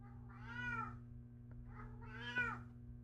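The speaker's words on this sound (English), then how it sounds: "Studio Cat, shut up" A studio cat meows twice, drawn-out and fairly close, with a short quiet gap between the cries and a steady low hum underneath.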